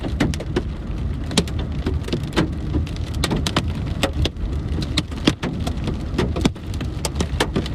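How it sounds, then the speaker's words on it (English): Hail hammers down hard in a dense, irregular barrage, with sharp individual cracks of bigger stones standing out against the steady roar. "We get baseball-sized hail."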